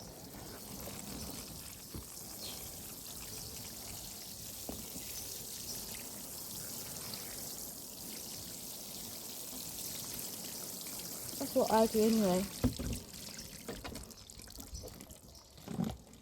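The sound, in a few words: watering a raised garden planter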